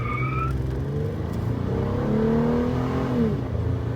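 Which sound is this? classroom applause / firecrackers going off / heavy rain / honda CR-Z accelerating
honda CR-Z accelerating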